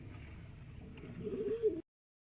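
Soft, low cooing from a pigeon inside a coop with white-feathered birds, faint against background noise, then silence and a sudden short sound at the end.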